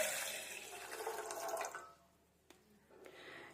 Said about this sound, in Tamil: இப்போ ஒரு பாத்திரத்தில் நம்ம ஒரு 400 ml நம்ம தண்ணீர் ஊற்றிக்கலாம்